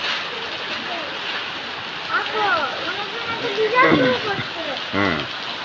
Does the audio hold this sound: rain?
yes